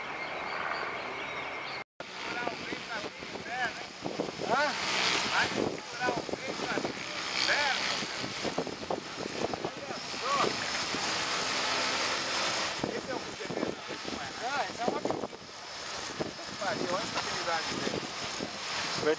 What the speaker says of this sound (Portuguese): Ventando o vento.